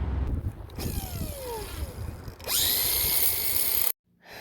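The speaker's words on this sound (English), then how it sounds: "So I'm gonna take the grinder, I'm gonna cut a notch along this here, all the way around" An angle grinder scores a notch into chimney mortar for flashing, first whining at a lower pitch, then cutting in with a loud, sustained high-pitched grinding close up that cuts off abruptly.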